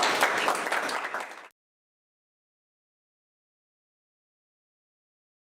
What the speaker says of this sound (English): Let's give a round of applause for Kayla